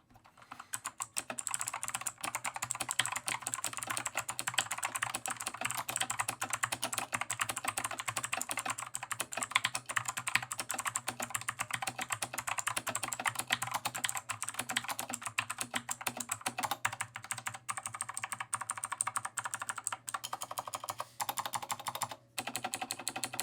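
Steady, rapid typing on an optical-switch gaming keyboard with ABS plastic keycaps clatters on continuously, a dense stream of light clicky keystrokes close up, with no voices.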